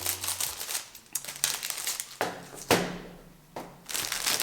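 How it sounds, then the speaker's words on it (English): Cellophane bags holding decorated floral cookies are cut open and pulled away, giving close, bright crinkling and crackling in uneven bursts, with a few sharper snaps among the rustles. "So let's cut them out of the cellophane bags."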